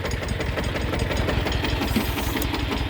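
Mini tractor engine running steadily with a rapid, knocking diesel-like pulse, loud and close, while dragging a three-metre linden log on a three-point hitch.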